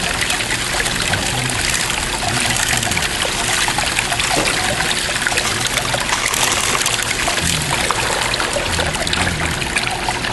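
Water washes gold concentrates through the riffles of a Mackirk Predator 3 sluice, a steady, continuous trickle and splash that runs unbroken and fairly loud from start to end.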